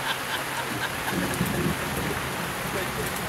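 Heavy rain pours down steadily over an outdoor event, a dense, even hiss of drops close by, with faint low rumbles suggesting distant thunder underneath.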